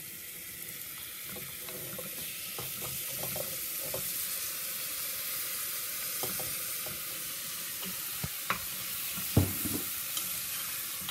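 Shrimp frying in a pan while cooking a shrimp sauce, a quiet steady sizzle with scattered light clicks and stirring taps, close and without talk.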